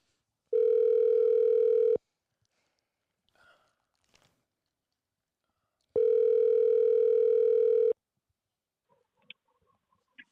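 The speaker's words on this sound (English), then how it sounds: "Let's get my boy CJ on the phone" An outgoing phone call rings back twice, each tone a long, steady buzz lasting over a second, separated by several seconds of near silence with faint handling clicks.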